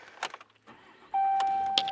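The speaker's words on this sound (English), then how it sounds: "let's start her up. Key in the ignition." A 2016 RAM 3500 ST truck has its key turned in the ignition, with faint key and interior clicks, then a chime and the engine catching and settling into a steady idle.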